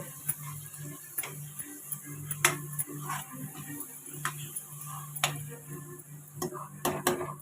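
Spinach curry in a pan being stirred after coriander powder is added, with repeated clicking and scraping of a spoon against the pan at an irregular pace, close and moderately quiet over a soft low hum.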